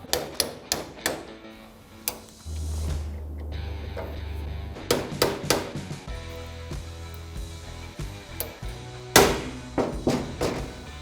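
Metal hammer blows striking a stub shaft while a U-joint is installed on an off-road vehicle axle, arriving as loud, sharp, uneven taps in quick clusters against a low mechanical hum in a workshop.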